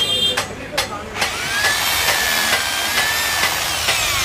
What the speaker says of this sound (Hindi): ये ड्रिल